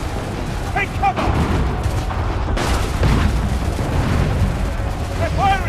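Booming artillery fire in the video game Assassin's Creed III, heavy blasts rumbling steadily under a dense battlefield din, with voices shouting through the barrage.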